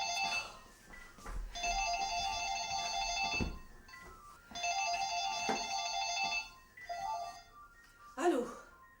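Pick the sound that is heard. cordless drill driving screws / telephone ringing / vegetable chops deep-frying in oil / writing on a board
telephone ringing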